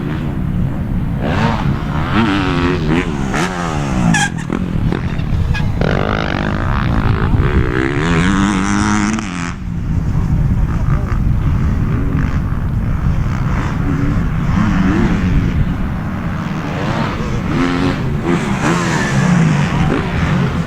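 450cc motocross motorcycles race around a dirt track at a speedpark, a dense, loud, continuous engine roar with rising and falling revs as bikes pass.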